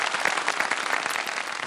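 A studio audience at an iftar quiz show claps in a steady, dense burst of applause, even and sustained throughout.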